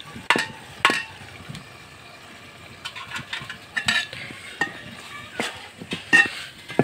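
Spices sauté and sizzle in a pan on a home kitchen stove, with a low frying hiss under repeated sharp clinks and scrapes of a spoon stirring against the metal.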